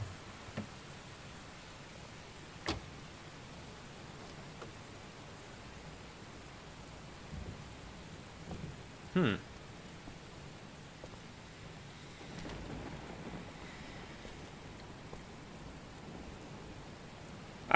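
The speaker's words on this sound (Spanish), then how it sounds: "Cada vez llueve más, ¿eh?" In the video game Heavy Rain, steady rain hisses softly around an old power station, with a few faint distant rumbles of thunder and occasional sharper cracks over the quiet wash.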